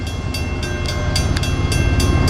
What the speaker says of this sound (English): Got a coal train coming.